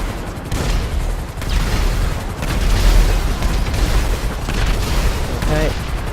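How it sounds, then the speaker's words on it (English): Rapid volleys of helicopter missiles fired from a SeaSparrow in GTA Online, a dense, continuous run of booming launches and blasts that stays loud throughout. "these missiles as well, they can be spammed. Just hold the trigger button and they'll just shoot."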